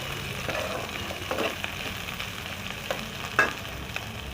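Onions and capsicum fry in a pan for chilli mushroom, a steady close sizzle with a few soft stirring scrapes and one sharper clink near the end.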